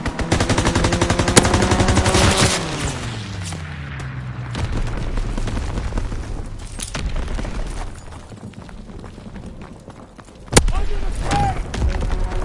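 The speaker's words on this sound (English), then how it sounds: "Strafing run." Strafing-run gunfire in a war video game on PS4, a loud dense burst of rapid shots and booms at the start, then quieter rumbling and scattered impacts, with a sharp loud blast near the end.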